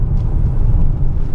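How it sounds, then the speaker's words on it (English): Honda CRX passing close by, a brief steady low rumble of engine and tyre noise with no talking. "CRX just flew by"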